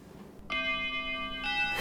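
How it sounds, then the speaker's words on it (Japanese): An iPhone timer alert rings like a school chime: clear, sustained bell-like tones that start after a short quiet gap and then step to a new pitch twice, loud and close, with no talk. "これがまあ終わったら学校のチャイムみたいなのが鳴るんですよ"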